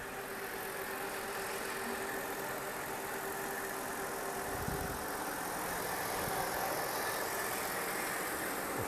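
A Mercedes W163 SUV engine idling just after starting, a steady low hum heard nearby under broadband fan and background noise, with a brief thump near the middle.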